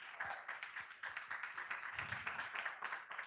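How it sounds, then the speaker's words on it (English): A lecture-hall audience gives a round of applause at a roundtable event, a steady, even patter of many hands clapping, fairly faint and distant throughout. "How about a round of applause for them?"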